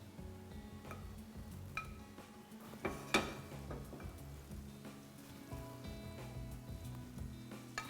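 Butter sizzling in a pan already coated with canola oil, heating up to baste a fried egg; a steady close frying hiss runs throughout, with occasional clinks of cookware and utensils and no talking.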